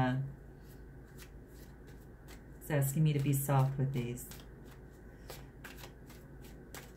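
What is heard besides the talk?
shuffling tarot cards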